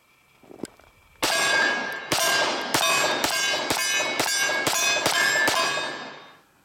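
A Dan Wesson PM-45 Pointman 1911 pistol in government size fires .45 ACP rounds, with a string of about eight loud, sharp shots in steady succession that ring out close and alone.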